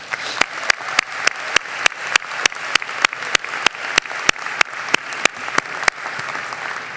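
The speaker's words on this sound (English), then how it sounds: "Can you please give him a round of applause?" A commencement audience at a university graduate ceremony applauds steadily, a dense even wash of clapping with a few sharp, regular claps standing out close by.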